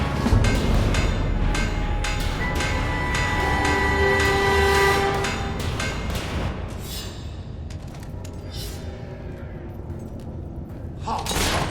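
A monorail train in Fable III rumbles and clatters loudly with a horn blast, the rail noise fading and thinning toward the end amid game effects.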